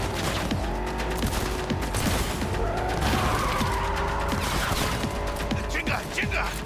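Gunfire erupts in a video game during a driving shootout, a dense, continuous clatter of shots and crashes that runs nonstop at close range, with voices talking over the din.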